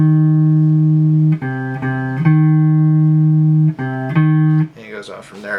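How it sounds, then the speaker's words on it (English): A steady electronic tone alternates with a second pitch a minor third away, switching back and forth several times, ending in a brief noisy burst. "But you hear that minor third interval"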